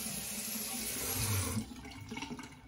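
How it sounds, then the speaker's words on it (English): Tap water runs steadily into a sink while a face is rinsed after shaving, then eases into lighter splashing and dripping, close and alone without voices. "Let's go ahead and get my face rinsed off"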